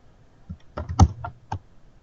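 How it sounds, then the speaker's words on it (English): Typing on a computer keyboard: a handful of sparse, separate key clicks over about two seconds, close and fairly quiet, with no talking. "now I just carry on typing"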